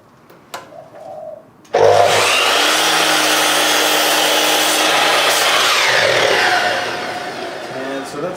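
A power saw fitted with a Laser Kerf insert starts abruptly after a few faint knocks, then runs loud and steady through a cut for several seconds before tapering slightly at the end.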